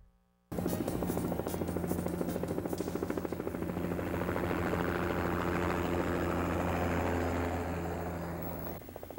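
A helicopter roars continuously at close range, its rotor chopping in a rapid steady thump under a broad engine whine for several seconds.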